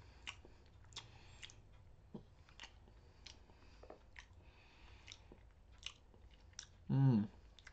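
A man eats a ham and cheese sandwich with soft, close chewing and biting sounds repeating at a steady pace, ending in a brief louder mouth noise.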